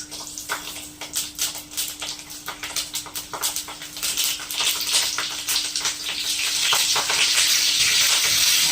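Green chilies placed one by one into hot oil in a wok, giving a steady crackling sizzle that thickens and grows louder toward the end, with faint clinks at the start.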